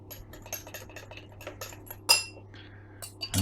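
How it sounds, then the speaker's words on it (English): Priming sugar being stirred into water for bottling home-brewed IPA, with light clinks and scraping of a spoon against a glass or jug, close and quiet, plus a couple of sharper knocks. "So I'm going to dissolve all this sugar in."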